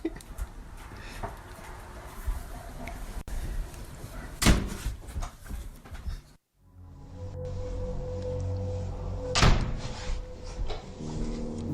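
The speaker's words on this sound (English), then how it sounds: "The door all of a sudden closes on its own." A bedroom door closes by itself at night, drifting slowly before it shuts with a sharp knock, followed by a quieter room with faint thumps and a second bang, and no voices.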